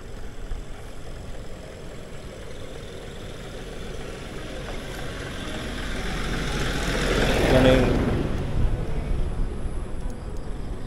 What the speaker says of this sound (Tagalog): Oh, may traktora pa.